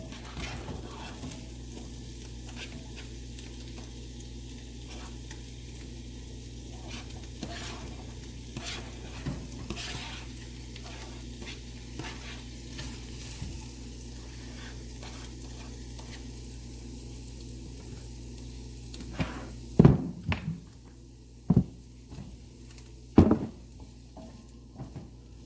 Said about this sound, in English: I'm going to take my tomato, garlic, and onion and then let it cook for a little bit.